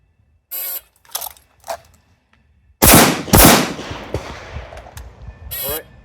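Handgun shots fired at practice targets on an outdoor range: sharp, loud, close reports, a few single cracks followed by a quicker burst of shots ringing out, with no talking.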